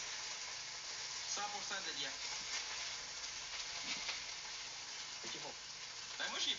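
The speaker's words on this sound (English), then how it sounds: "The sausages are exploding." Sausages frying in a pan give off a steady dense sizzle with occasional pops and spurts as they burst, heard close while voices talk faintly in the background.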